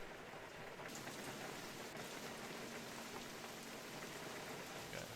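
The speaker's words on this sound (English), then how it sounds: "So, for some reason we can still hear the rain." Steady rain falling in the flight simulator X-Plane 11, a dense continuous hiss with soft patter of drops, even and enveloping throughout with no voices.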